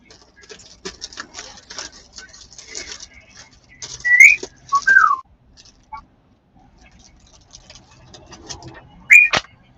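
A pet bird whistling indoors, a few short, bright whistled notes spaced several seconds apart over faint background chatter and small household noises.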